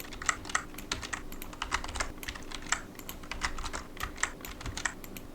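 Fingers typing on a computer keyboard while filling in a registration form, a quick uneven run of light clicking keystrokes, close and fairly quiet with no voices.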